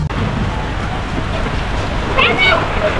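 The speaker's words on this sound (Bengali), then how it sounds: "অনেক বৃষ্টি পড়তেছে" Heavy rain pours down in a continuous dense hiss, with a voice speaking faintly over it near the end.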